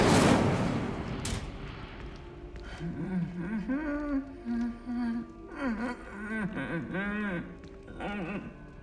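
Incendio fire spell cast in Hogwarts Legacy: a loud, sharp fiery burst at the very start that quickly fades, followed by a character talking for the rest of the clip.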